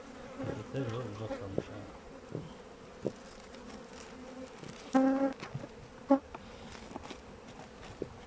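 Honeybees in an overflowing hive buzz in a low, steady drone close by, with a few sharper clicks and brief louder hums.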